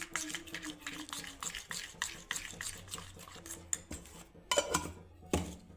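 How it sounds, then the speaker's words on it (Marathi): Ghee being whisked into methi mathri dough made with wheat flour, a rapid rhythmic clinking and scraping of utensil against a bowl, close and steady with a few louder knocks. "आपण अजून 1 चमचा याच्यामध्ये तूप घालून घेऊया आणि चांगलं फेटून घेऊ याला"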